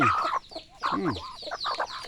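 Several chickens and ducks cluck and chatter close by in short, uneven bursts, with a few louder squawks among them.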